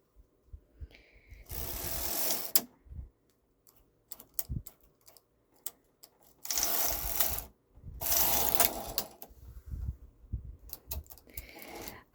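Knitting machine carriage sliding back and forth across the needle bed for two rows, a few loud rattling mechanical sweeps separated by quiet pauses and small clicks.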